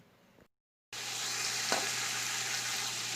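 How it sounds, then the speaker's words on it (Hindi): Potatoes for chicken biryani frying in oil, a loud, dense, continuous sizzle that starts after a brief silence and holds steady, heard up close with no voices. "4 से 5 मिनट तक आलूओं को फ्राई करेंगे"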